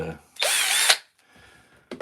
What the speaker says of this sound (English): we'll want a fine drill. This is a 2mm drill.